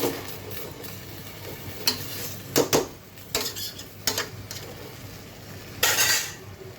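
Spicy chicken korma masala being stirred in a pan, a spoon scraping and clinking against the metal in several sharp bursts over a low background hiss.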